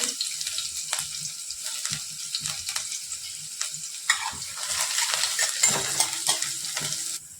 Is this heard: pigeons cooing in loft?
no